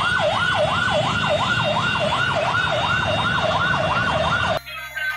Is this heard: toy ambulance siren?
yes